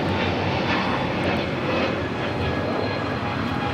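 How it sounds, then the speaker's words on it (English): A Delta Airlines Airbus A321neo jet takes off at Los Angeles International Airport, its engines producing a loud, steady, broadband roar that holds throughout. "749 taking off to Tampa, Florida on the A321neo"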